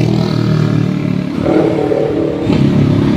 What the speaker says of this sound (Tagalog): Napakaingay naman ng motor na yun.